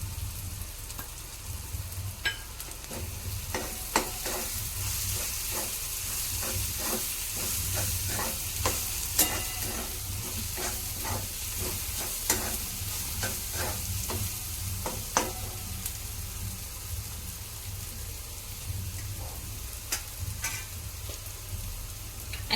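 Dried fish and tendli masala with red chili frying and being stirred in a pan, giving a steady close sizzle with scattered scraping clicks from stirring throughout, no voices.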